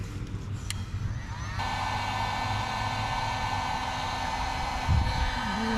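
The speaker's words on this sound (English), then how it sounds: "Now the heat gun." A heat gun blows hot air over boat trailer LED light wires, a steady loud broadband whoosh that starts after a brief clatter and runs continuously to the end, with a small bump of handling near the close.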